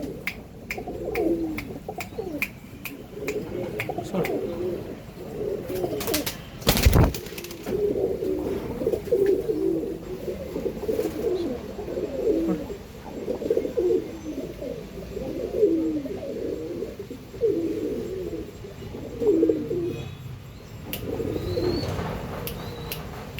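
Steady, layered cooing from several pigeons fills the scene, low throaty calls overlapping continuously, with a brief flutter or clatter partway through.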